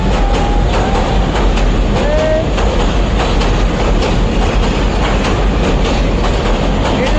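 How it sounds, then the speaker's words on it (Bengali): A crowded passenger train passes close by, its loud, continuous roar of wheels and rumble filling the whole stretch, with brief squeals of wheels on the rails. "এই যে ট্রেন দেখছেন"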